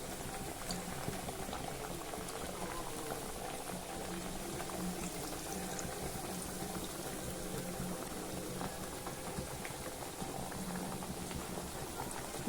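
Nippattu rice crackers deep-frying in hot oil in a kadai, a dense, steady crackling sizzle close up, unbroken and even throughout with no talking.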